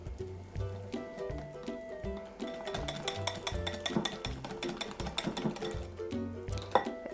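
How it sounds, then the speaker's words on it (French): Water and all-purpose flour are whisked into a smooth batter for Japanese hashimaki crepes, heard as a close, rhythmic clinking and scraping of a utensil against a bowl with soft wet sloshing, and no speech. "Et là, on va bien mélanger jusqu'à temps qu'il n'y ait plus de grumeaux."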